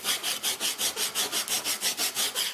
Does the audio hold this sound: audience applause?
no